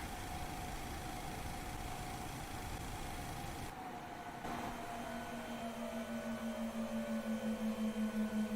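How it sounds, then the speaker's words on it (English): Boeing 737 engines winding down after shutdown in the IXEG 737 flight simulator at Hamburg airport: a steady whine slowly falls in pitch while a low hum steadies and pulses, alone with no talk, close and moderately loud. "And engines off."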